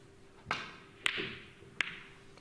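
English billiards balls struck in a tournament semi-final, the cue ball played off one or two cushions for a cannon: a few sharp, crisp clicks and knocks spaced about half a second apart, moderately quiet in a hushed hall.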